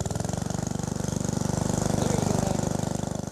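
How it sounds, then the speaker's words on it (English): A small gas engine drives a temporary well water pump at a freshly drilled well, chugging in a steady, rapid idle rhythm close by, loud and alone with no talk over it. "we're going to start the engine up and see if we can get some well water out"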